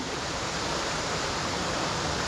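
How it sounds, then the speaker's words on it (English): A waterfall near Askrigg cascades down in a dale, giving a dense, continuous rushing roar that holds steady and fairly loud with no talking over it. "I can actually see the waterfall cascading down now."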